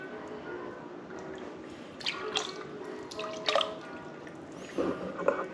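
Ammonia dripping into an aquarium tank, a few soft, close drips and small splashes at irregular intervals over a quiet background.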